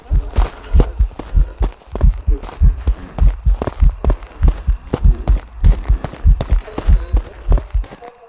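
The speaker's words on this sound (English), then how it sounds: "Heartbeat didn't seem louder than usual" Ghost heartbeat from the video game Phasmophobia, a steady run of deep, loud, throbbing double thumps repeating at an even pace all the way through, with no voices over it.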